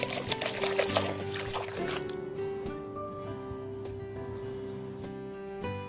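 Water pours steadily from a bucket into a tub holding a thick double-bed blanket, a continuous splashing gush that tapers off near the end.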